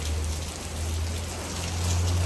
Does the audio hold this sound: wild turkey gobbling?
no